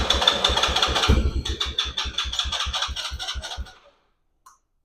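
A neglected ATV engine sputtering as it tries to start, a rapid chugging knock of uneven firing pulses for several seconds before it dies into silence.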